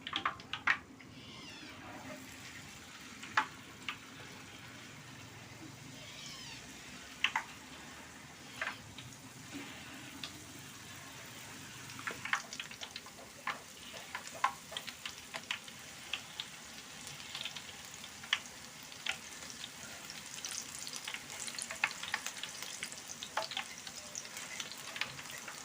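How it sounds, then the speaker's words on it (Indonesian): Black soybean peyek crackers fry in oil with a faint, steady sizzle and bubbling, broken by occasional sharp crackles and spatters, quiet and without talk. "Nah sekarang kita goreng lagi ya."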